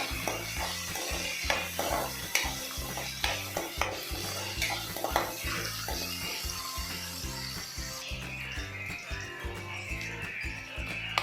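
Sliced onions fry for a potato tomato curry, a steady sizzle broken by repeated scrapes and taps of a utensil stirring in the pan, with a soft tonal backdrop underneath.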